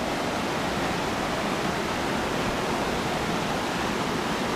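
The East Lyn river on Exmoor roars past nearby, a dense, unbroken rush of fast water that stays loud and steady throughout.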